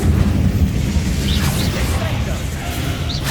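An Incendio fire spell blast in the video game Hogwarts Legacy, a heavy rumbling burst with whooshing flames, loud and continuous, with spoken voices over it.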